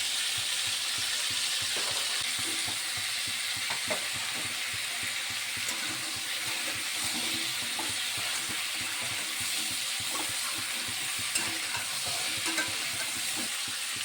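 Shrimp sautés in a pan with a soft, steady sizzle and light stirring clicks, fairly quiet and unbroken for the whole stretch.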